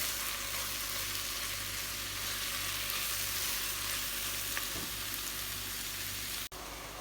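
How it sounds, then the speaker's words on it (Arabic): Minced veal sizzles in a pan with softened onions, a steady, quiet frying hiss lasting throughout, with a brief clunk near the end. "راح احط نص كيلو لحم مفروم، لحم عجل."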